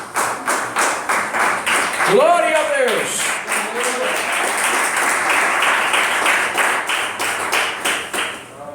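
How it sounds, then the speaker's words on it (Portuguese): A church congregation claps hands together in praise to Jesus, a steady, dense rhythmic clapping that runs throughout, with a voice speaking briefly over it partway through. "bate palmas para Jesus."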